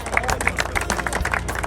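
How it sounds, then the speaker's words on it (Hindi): A small crowd at a cricket tournament prize ceremony claps in a brisk, uneven patter of hand claps, fairly close, with a few voices mixed in. "तालियां तो होने चाहिए यार."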